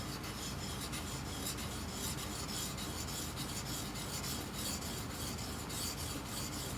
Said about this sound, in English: go to the finer stone, clean that off, go to your 600 grit here, same motion on this stone.